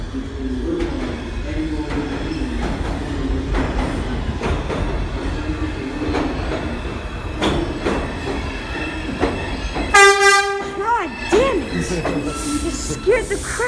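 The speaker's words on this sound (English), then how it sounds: "This is a Bowling Green Bound 4 express train." New York subway 4 express train arriving at the 125th Street station, a loud rumble and rattle of cars rolling in, then squealing brakes and a door chime tone near the end, with voices on the platform.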